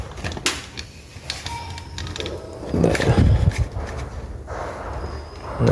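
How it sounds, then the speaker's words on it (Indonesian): A bolt being unscrewed on a computer case, close mechanical ratcheting and scraping of a screwdriver with scattered sharp clicks and a louder rattling burst midway. "nah, kita buka baut ini."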